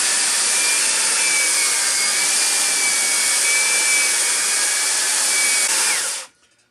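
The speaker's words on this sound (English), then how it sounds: "Normally on a woodworking project, you wouldn't use a belt sander like this cross grain, but on these maple meat cutting boards, it doesn't matter one bit." A belt sander runs across the grain of maple meat cutting boards with a loud, continuous whining roar that holds steady for several seconds and then cuts off abruptly.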